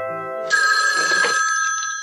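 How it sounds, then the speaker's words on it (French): A telephone bell rings out loud and close, a steady electronic trill that starts abruptly and holds for over a second before tapering, with no talk over it. "Ça sonne."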